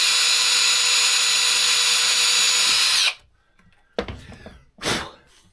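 A power drill drives screws into a boat boom on a Drascombe Lugger, running loud and continuous for about three seconds before stopping, followed by a few short clunks and rustles.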